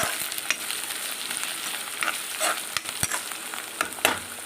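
Finely chopped garlic and onion frying in a pan for a dried fish curry, a steady dense sizzle close up with spoon stirring scrapes and light taps throughout.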